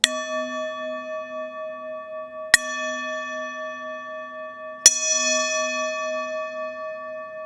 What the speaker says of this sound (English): with 3 gentle strikes on the interior of our chiming bowl rim